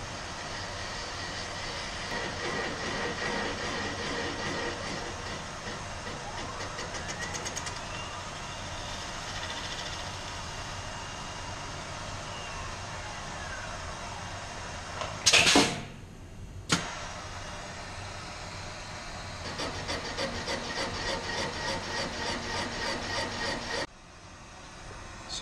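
A Serdi valve seat machine cuts a Ford FE cylinder head, giving a steady grinding, whirring drone with rubbing texture. A brief louder burst comes partway through, then a pulsing machining stretch before it cuts off near the end.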